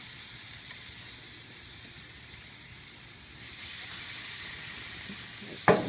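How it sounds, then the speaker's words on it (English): Steak sizzles on a grill with a steady, fairly quiet hiss that swells a little partway through, ending in a short sharp clatter. "Hear that sizzle? That's a good sound."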